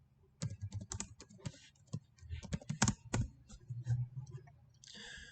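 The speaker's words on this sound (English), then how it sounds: "You can just type Ashish Purohit." Typing on a computer keyboard, a quick irregular run of sharp key clicks and taps, close and moderately quiet, with no speech.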